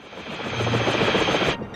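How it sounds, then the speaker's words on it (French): A cartoon helicopter's rotor thumps in quick rhythmic pulses over a loud engine whine, close and steady before cutting off abruptly. "C'est la première fois que j'entre dans ton hélico, Danny."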